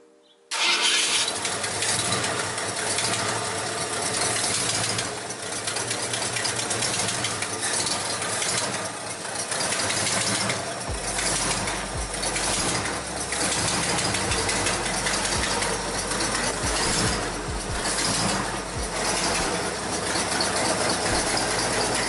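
A 1966 Mercury car engine cranks and catches, then settles into a loud, steady idle that runs on without a break, close by, with no talking over it.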